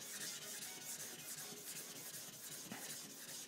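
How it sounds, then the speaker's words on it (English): A blade is rubbed back and forth on a worn diamond Atma sharpening plate, producing a steady close, quiet gritty scraping with a soft repeating stroke rhythm. "I have a worn out diamond Atma plate."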